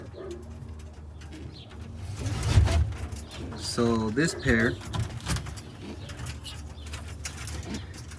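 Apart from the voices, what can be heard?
roller pigeons cooing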